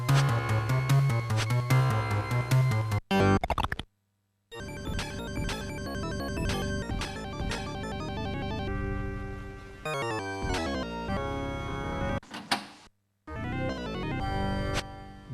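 Chiptune music from a homebrew Sega Genesis video game, bright buzzy synth melody over fast percussive hits, playing loudly and continuously with a few abrupt silent gaps between sections.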